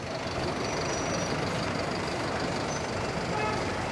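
Steady street traffic in Montevideo's historic district: a continuous wash of engine rumble and road noise, with faint tonal beeps and truck or bus sounds, moderately loud and unbroken, without speech.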